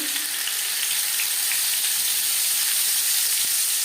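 Marinated fish dropped into five spoons of hot refined oil for a winter fish curry with raw tomato, giving a loud, steady sizzle and crackle that holds evenly throughout.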